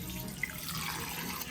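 Tap water running into a sink for hand washing, a steady close splashing hiss that continues evenly throughout, with a faint brief clink partway through and no talking.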